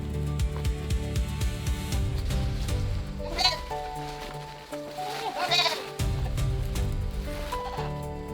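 Goat bleating in a rustic stone shelter, two wavering, quivering bleats standing out clearly over a steady hum of background music or drone.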